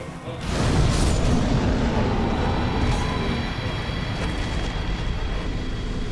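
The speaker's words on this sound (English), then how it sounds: "Pop Power Within, and Fire Tempest will destroy him" A Fire Tempest spell erupts against the Taurus Demon in Dark Souls, a loud, rumbling blast of fire pillars that swells quickly and roars on continuously with a heavy low-end boom.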